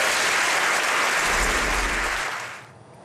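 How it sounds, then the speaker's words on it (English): Dense, loud applause from a studio or parliamentary audience fills the clip steadily before tapering off near the end, with no talk over it. "lots of applause"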